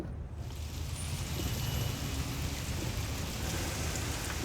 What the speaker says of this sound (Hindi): अरे वाह, बारिश।